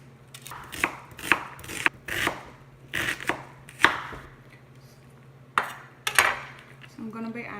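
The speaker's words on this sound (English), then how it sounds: "I'm gonna chop the other half for the garbanzo bean sundal" Half an onion is chopped on a cutting board, with a run of crisp knife strikes in irregular bursts close to the listener, a short pause, then a few more chops.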